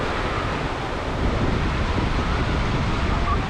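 Ocean waves roll in at Pyoseon beach in a constant broad roar of surf, mixed with wind buffeting the microphone. No voices are heard.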